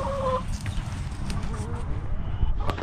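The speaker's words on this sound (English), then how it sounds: "That's a big chicken right there." Chickens cluck and call in a pen beside a citrus nursery, with a rooster among them, a steady close flock chatter that runs under speech throughout.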